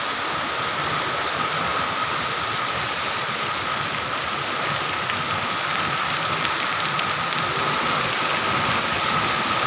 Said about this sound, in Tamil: வானம் மிகுந்த மேகமூட்டத்துடனும் அதிகமான மழையை பொழிகின்ற வகையில் காட்சியளிக்கின்றது.